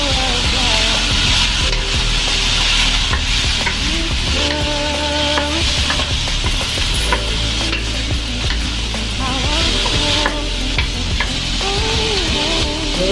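Pork meatballs stir-fried with mixed vegetables in a pan, a loud continuous sizzle with scraping, stirring strokes of a utensil against the pan throughout, close up, with music playing underneath.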